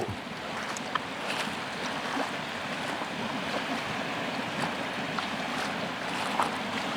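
Floodwater rushing along a submerged forest path in Mutur during a disaster, a steady broadband wash of flowing water with no pauses, close and fairly loud throughout.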